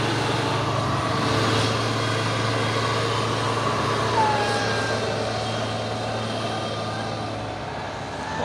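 A Hino truck drones past in a long, steady rumble that swells slightly mid-pass and then eases off, heard from nearby on an uphill road with a faint higher whine over it.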